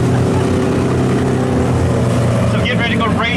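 Pony stock race cars roaring through a heat race at Barona Speedway, a loud, steady, droning engine blend with layered tones, and a voice, likely an announcer, heard over the noise.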